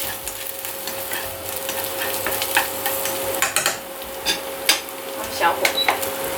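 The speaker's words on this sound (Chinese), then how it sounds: "先炒一下。" Shiitake mushrooms and pork being stir-fried in a pot: a soft frying sizzle with irregular scraping and clacking of the utensil against the pot, growing busier toward the end.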